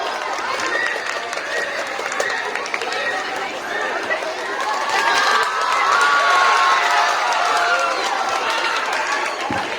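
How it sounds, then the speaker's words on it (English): A crowd at a St. Anne's Teacher's Day stage event cheers and claps as Girija sir is welcomed, a steady dense wash of applause and shouting voices with children's cries, swelling slightly toward the end. "Round of applause for Girija sir"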